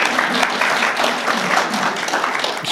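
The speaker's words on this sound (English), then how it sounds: "Yes, you can applaud." Brief burst of audience applause at a lecture on Saint Benedict and Western monasticism: a thick, continuous patter of many hands clapping at steady volume.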